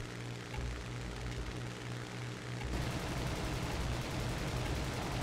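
Cannon fire from two fighter planes in a realistic-mode video game air battle: a steady aircraft engine drone carries on throughout, joined halfway by denser, rattling cannon bursts. The sound is loud and continuous, with no talking.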